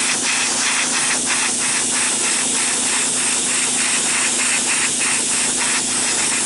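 An airbrush sprays weathering paint onto an HO scale B&O C27A caboose model. A steady close hiss runs throughout, with quick rhythmic pulses from short repeated bursts.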